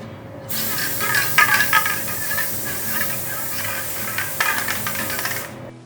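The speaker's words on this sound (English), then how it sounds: "I was using spray glue" Spray adhesive glue jetting from an aerosol can onto arcade cabinet artwork: one continuous loud hiss lasting about five seconds, close up, with slight sputters partway through before it cuts off.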